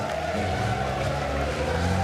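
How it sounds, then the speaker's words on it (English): A race car drifts through a corner at the Misano circuit, its tyres skidding in a loud, continuous squeal over a droning engine. "There's some drifting."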